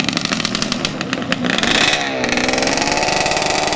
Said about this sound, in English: Got the dirt bike coming back.